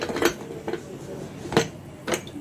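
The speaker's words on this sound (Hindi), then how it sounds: "अब हम इसका लिड लगा देंगे कुकर का।" A metal lid is set onto a pressure cooker holding a ridge gourd masala, producing a few sharp close metallic clanks and clinks spaced across a couple of seconds.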